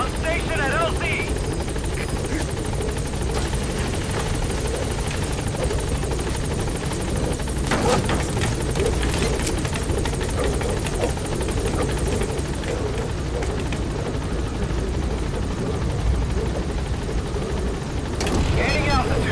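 A Metal Gear Solid V: The Phantom Pain support helicopter flies into a landing zone with loud, constant rotor thrum and engine whine throughout. Radio-style voices talk over it.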